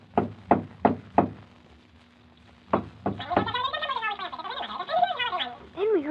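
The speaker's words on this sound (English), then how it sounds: "he jumped onto the door knocker and swung back and forth on it" A door knocker raps four times in quick succession, pauses, then knocks twice more as it swings back and forth, before a person starts talking.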